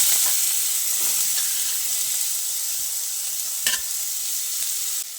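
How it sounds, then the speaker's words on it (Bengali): Potatoes are tossed in hot mustard oil with nigella seeds, giving a steady, loud, close sizzle with occasional scrapes from a spatula. "তো আলুগুলোকে দিয়ে তেলের সঙ্গে এভাবে একটু নেড়ে চেড়ে মিশিয়ে নিচ্ছি।"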